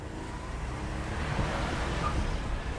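A 1987 Buick Grand National, turbocharged, roars under hard acceleration after brake boosting, a steady loud engine and rushing wind noise filling the whole stretch without talk.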